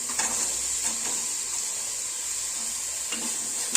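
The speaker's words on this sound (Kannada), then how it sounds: "ಇವಾಗ ಈರುಳ್ಳಿ ಹಾಕ್ತಾ ಇದ್ದೀನಿ" Onions frying in a pan with ginger garlic paste, a steady close hiss of sizzling with faint stirring scrapes and no talk.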